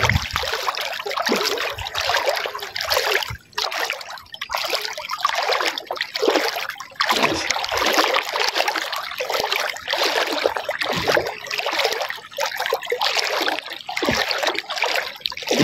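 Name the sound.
waist-deep flood water moving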